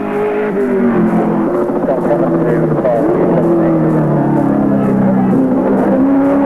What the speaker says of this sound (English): Working the V8 Commodore hard.